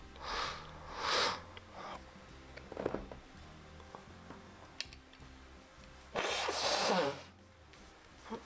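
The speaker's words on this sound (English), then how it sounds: "I'm blowing my nose in a rag" A few short, forceful nose blows into a rag and sniffs close by, separated by quiet rustling and small handling noises.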